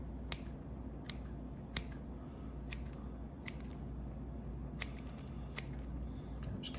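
Bonsai shears snip roots of a Ficus burt-davyi during repotting, about nine sharp, crisp cuts at irregular intervals over a low steady background hum, fairly close and moderately quiet.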